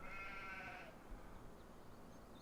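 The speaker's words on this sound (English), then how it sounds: "I've crammed 70 sheep into this pasture" Sheep in a crowded pasture in the Farm Sim 17 video game give a single bleat over a quiet background hum. The bleat is fairly faint and cuts off within the first second.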